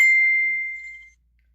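Single clear phone notification ding, a bright pure tone that rings out and decays over about a second into near silence.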